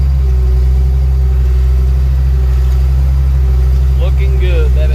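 A 700 dozer's engine runs at high throttle with a loud, steady, deep droning roar throughout, close and constant, with a brief clank near the end.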